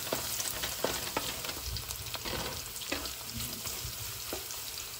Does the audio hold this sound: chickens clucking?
no